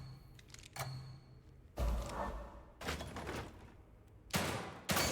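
Scattered gunshots in a shooting gallery challenge in The Evil Within 2, a few separate fairly quiet thumping reports spaced irregularly with gaps of near silence between them.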